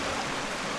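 A river on Siargao island flows with a dense, continuous rushing wash, loud and close, with no gaps over a brief moment.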